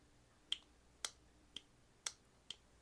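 A Real Steel slip joint knife blade pops open and shut, giving five sharp, faint clicks spaced about half a second apart in a quiet room.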